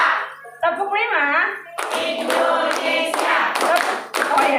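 A group in an Indonesian teachers' learning community claps in a rhythmic five-clap pattern, crisp hand claps in quick bursts alternating with a voice and children talking.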